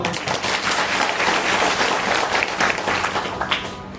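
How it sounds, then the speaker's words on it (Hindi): Loud, sustained applause from an audience at a religious storytelling event, dense clapping that carries evenly for about four seconds with no break. "आज तालियों में कुछ है, मस्ती नहीं आती तालियों में, जोर से बजाओ जरा।"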